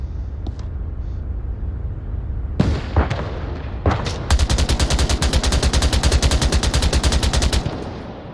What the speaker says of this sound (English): Oh, being shot at.